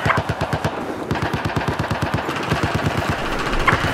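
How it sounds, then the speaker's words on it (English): Sustained machine gun fire in a video game battle, a rapid, even stream of loud close shots rattling without pause for the full stretch, with no voices. "West of your current location, there is a hostile machine gunner."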